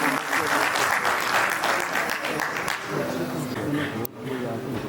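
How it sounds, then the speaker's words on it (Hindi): An audience gives loud applause to welcome a singer at a Hindi stage show, a thick sustained roar of clapping that eases slightly toward the end, with voices mixed in. "जोरदार तालियों के साथ उनका स्वागत किया जाए"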